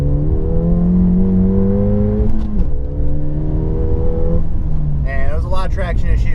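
A Ford Fiesta ST accelerates in second gear with wheelspin, its engine note climbing steadily in pitch, dipping at a shift and climbing again. A person talks over it toward the end.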